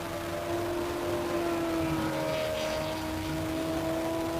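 A classic Ferrari V8 racing car at the Simola hill climb holds a steady, droning engine note, somewhat distant and sustained without clear revving peaks.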